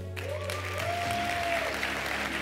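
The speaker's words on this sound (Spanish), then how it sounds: "les pido un gran aplauso" Audience applause fills a live business show as a guest is welcomed to the stage, a steady dense roar of clapping throughout with a faint tonal sweep early on.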